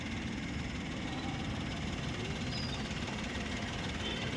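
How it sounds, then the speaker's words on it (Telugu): A 2013 Maruti Suzuki Wagon R LXi petrol engine idling, a steady low, even hum with faint mechanical vibration, fairly quiet and continuous with no voices. "ఇంజన్ బీటింగ్ చూసారా, చాలా సైలెంట్ ఉంది"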